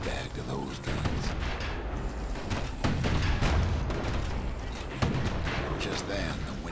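Security skiff guns in the video game Bastion firing on a boat at sea, a dense rattle of booming shots and blasts layered over each other, loud and continuous, with a narrator's voice running underneath.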